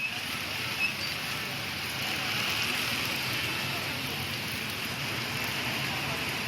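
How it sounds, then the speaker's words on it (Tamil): Heavy summer rain pours down in Tamil Nadu, a dense, unbroken hiss of drops striking surfaces that holds loud and even throughout. "பொள்ளாச்சி சுற்றுவட்டார பகுதிகளில் கொட்டி தீர்த்த கனமழையால் சாலைகளில் வெள்ளம் பெருக்கெடுத்து"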